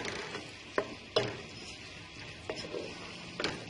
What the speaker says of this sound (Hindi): तब हम इसके अंदर ग्रीन चिली और टमाटर ऐड कर देते हैं और इसको बहुत ही अच्छे तरीके से मिक्स कर लेते हैं